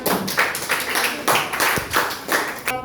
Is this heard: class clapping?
yes